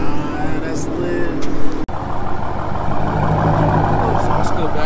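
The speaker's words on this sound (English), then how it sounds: "Exhaust clip action" Car exhaust clip at a Nashville night car meet, a loud rumbling engine close by with a sharp pop partway through, over crowd chatter and people talking.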